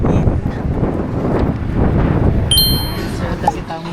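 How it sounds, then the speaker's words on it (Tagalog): Strong wind gusts across the microphone outdoors on a cold day in the Shirakawa-go and Takayama area of Japan, a steady loud low rumble throughout, with a brief ringing chime near the end. "Lakas ng hangin."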